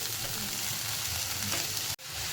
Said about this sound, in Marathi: कढई व्यवस्थित तापलेली आहे पहिला कांदा आपण टाकून घ्यायचा